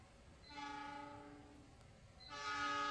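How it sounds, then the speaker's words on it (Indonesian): A train horn sounds twice, a long blast then another starting near the end, over a low rumble of a passing Malabar passenger train with stainless steel carriages. "Ini dia kereta api Malabar."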